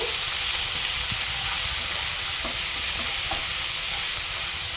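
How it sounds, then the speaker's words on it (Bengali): Ground ginger, dried chilli and cumin paste frying in hot oil while being stirred, a steady loud sizzle and hiss with light scraping, continuous throughout with no voices. "আদা শুকনো লঙ্কা জিরে বেটে রেখেছিলাম দিয়ে দিলাম একটু নাড়াচাড়া করে ভেজে নেব"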